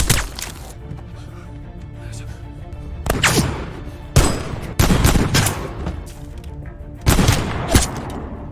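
Automatic weapons fire in a film battle: several loud bursts of rapid gunfire, close and sharp, separated by quieter gaps, with talk running beneath.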